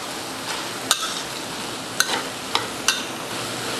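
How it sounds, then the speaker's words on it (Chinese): Curry mixed noodles stir-fried in a wok, with a steady soft sizzle and scraping stirs broken by a few sharp clinks of the spatula against the metal, close and moderately quiet. "把它炒均匀就好了"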